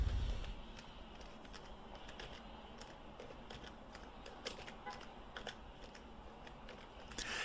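Fingers type quickly on a computer keyboard while setting up a QuickBooks company file, producing a steady patter of light, close clicks over a soft background hiss.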